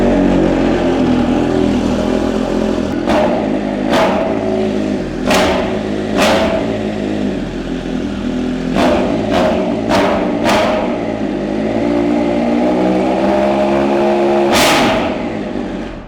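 A three-cylinder motorcycle with a link pipe and stock muffler idles close by and is blipped repeatedly, with sharp revs punching out over the rumble at irregular intervals and a last longer rev near the end.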